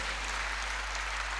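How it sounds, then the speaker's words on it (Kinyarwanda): Church congregation clapping, a dense steady wash of many hands applauding at even loudness throughout the short moment. "tuyikomera amashyi"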